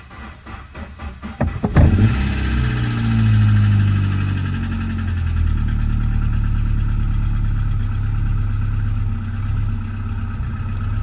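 A 1992 Saab 900i five-door with a 5-speed cranks over briefly, then catches and settles into a steady, loud, close-up idle with a slightly uneven low rumble.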